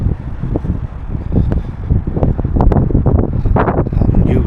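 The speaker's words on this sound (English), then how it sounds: "It's quite warm today. Windy but warm." Strong wind on a warm day buffets the microphone in loud, uneven gusts and rumbles outdoors, with no talking.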